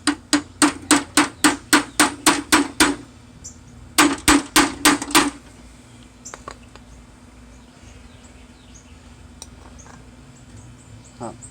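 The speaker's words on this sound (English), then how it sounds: "I gotta find my hammer real quick to hit this" A rapid series of about ten sharp metallic hammer strikes on Murray 17.5hp tractor brake parts, then a short pause and a second burst of five, followed by quiet background hum.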